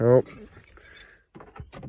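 Car keys jangle briefly and loudly at the ignition of a 2003 Toyota Tundra pickup, a short metallic rattle at the start followed by someone talking.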